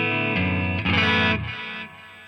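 An electric guitar played through a Fender ToneMaster Pro with drive, delay and reverb switched on rings out in sustained distorted chords that swell, then trail off into a fading echo.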